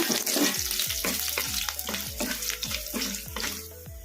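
Garlic and broken dried red chilli sizzle steadily in hot oil for a carrot chutney, with a continuous close frying hiss punctuated by repeated scraping strokes of a spatula stirring the pan, no voices.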